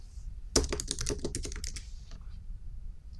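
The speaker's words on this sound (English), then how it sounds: "type the name of the new library." Quick bursts of keystrokes clatter on a computer keyboard, a close run of clicks lasting under two seconds before falling quiet.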